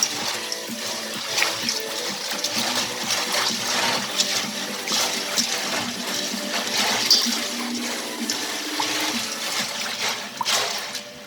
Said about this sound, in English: so I'm washing my red beans